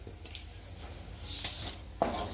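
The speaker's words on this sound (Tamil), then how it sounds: "இதை நல்லா வறுத்துன்றணும்." Whole spices (bay leaf, clove, cardamom, cinnamon stick, cumin) fry in oil with a faint, steady sizzle, broken by a few light clicks of a spoon against the pan.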